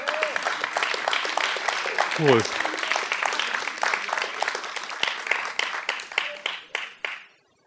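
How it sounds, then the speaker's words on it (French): Audience applause at an eloquence evening, a dense crowd clapping steadily, with a brief voice partway through, then thinning into scattered individual claps before stopping. "donc un applaudissement aussi pour eux"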